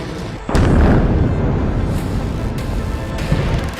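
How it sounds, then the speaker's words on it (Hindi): A heavy explosion from an Israeli air strike on Beirut bursts in loud and close, followed by a sustained deep rumble and crackling debris with smaller pops. "एक तरफ इजराइल की एयरफोर्स बेरूत में हिजबुल्लाह के ठिकानों पर मिसाइल और बम बरसा रही है"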